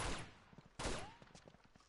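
Game gunfire: a loud burst at the start and another sharp shot near the middle, followed by scattered fainter pops and rattles, with no talk.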